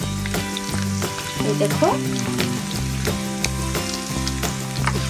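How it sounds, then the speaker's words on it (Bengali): Pieces of sour apple frying in a pan until brown for a pickle, a steady sizzle running beneath a prominent music track, with a brief spoken word. "আমি এগুলো এখন ভালো করে ভেজে নেব ব্রাউন কালার করে"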